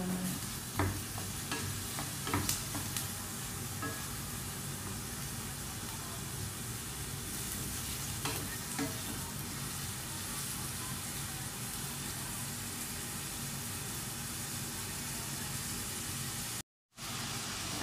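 Onion and garlic sautéing in oil in a pan, a steady broadband sizzle throughout with a few faint stirring clicks near the start, fairly quiet and continuous with no voices.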